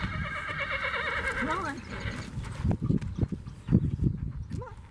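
A horse gives a long, wavering whinny near a farm gate, then close snorts and shuffling follow while a person speaks briefly.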